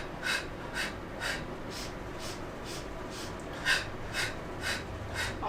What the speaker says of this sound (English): Just want to invite you to snap your belly in when you're exhaling.